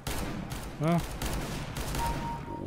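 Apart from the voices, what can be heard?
gunfire in the video game Counter-Strike: Global Offensive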